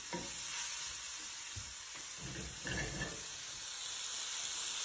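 Onions and mushrooms fry in a pan with a steady, close sizzle, broken by a few scraping stirs and a brief louder crackle near the middle.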